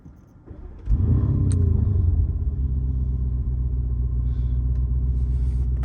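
A car engine turns over and catches, settling into a loud, steady idling rumble close by.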